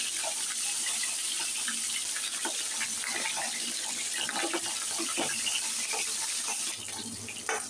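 Fish sizzles as it fries in hot oil, a dense, steady crackling hiss with scattered spatters and pops, loud and close throughout.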